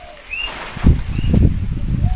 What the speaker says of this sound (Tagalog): Yung mga ibon. Nagsisiliparan.